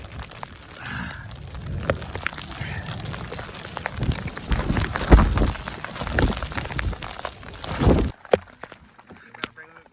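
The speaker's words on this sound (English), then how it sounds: "the rain's starting to come on down" Rain falling on a small camping shelter during a desert storm, a dense crackling patter of drops close overhead with gusty surges and rustling, cutting off abruptly near the end.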